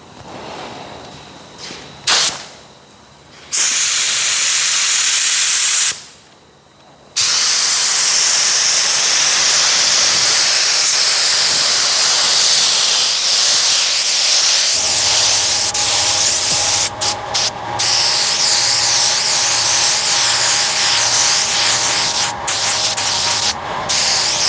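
Spray gun laying down a coat of Super Build polyester primer, a loud continuous airy hiss running for long stretches with a few brief pauses and a lower compressor hum joining partway, no voices.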